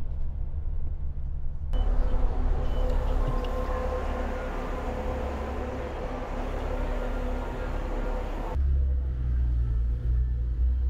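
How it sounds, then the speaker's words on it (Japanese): A Venetian hotel shuttle bus in Macau passes close by in the street, its steady engine rumble and broad road noise rising for several seconds over constant low traffic background, then dropping away. "ちょうどベネチアのバスがね来てましたね"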